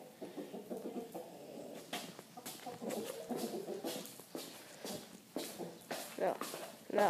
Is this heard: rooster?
yes